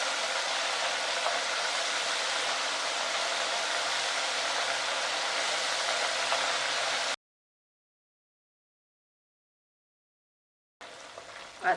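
Beef pieces frying in hot oil for Mongolian crispy beef, giving a dense steady hiss and sizzle for about seven seconds, then silence, then a brief return of sizzling.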